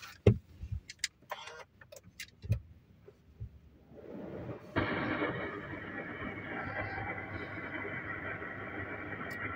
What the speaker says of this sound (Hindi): तो चलिए अभी करते हैं गाड़ी को स्टार्ट।